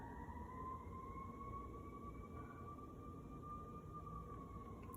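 A distant siren wails in a slow, sustained tone that gradually rises and falls, heard faintly over low rumbling background noise.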